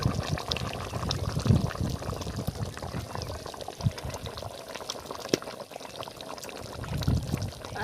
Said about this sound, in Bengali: দিয়ে দিচ্ছি কাজু বাটা।